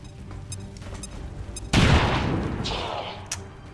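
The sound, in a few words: grenade thrown and exploding, XCOM 2 video game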